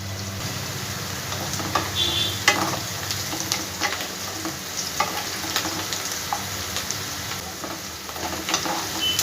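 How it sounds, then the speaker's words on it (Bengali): Onion sizzles steadily in a hot pan for a spiceless potato curry, with a continuous crackling fry broken by repeated sharp scrapes and clatters of stirring. "দেখো, পেঁয়াজটা আমার অর্ধেক ভাজা হয়ে গেছে"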